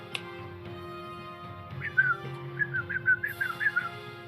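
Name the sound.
a person imitating a whistle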